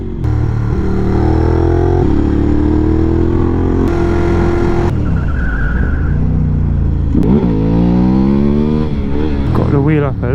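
A Ducati Hypermotard motorcycle without ABS rides on the road, its engine loud and close as it revs up and down through gear changes with steady wind roar, while the rider talks over it.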